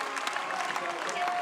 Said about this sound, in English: you can hear another loud cheer